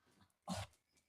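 A happy dog greeting its owner in the morning gives one short whining vocal sound, brief and fairly close, set against a quiet background with faint soft noises before and after.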